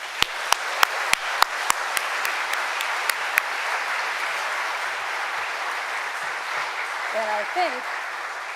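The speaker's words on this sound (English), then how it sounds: "One more giant round of applause." A large audience at the President's E Awards ceremony in Washington, D.C. gives sustained applause, with a few sharp claps standing out early before the clapping thins and a voice speaks near the end.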